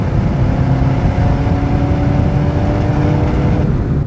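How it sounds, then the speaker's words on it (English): A deep, rumbling 5.0 V8 exhaust of a 1991 Ford Mustang LX coupe drones steadily from inside the moving car, low and continuous with no speech. "But that exhaust note is fantastic."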